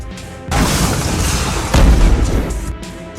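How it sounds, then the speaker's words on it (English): Homemade fireworks set off on a truck erupt in two heavy, loud booms, the second and stronger blast about a second after the first, each trailing into a rumbling roar. "The truck probably wanted to test out homemade fireworks, but the scale was a little out of control."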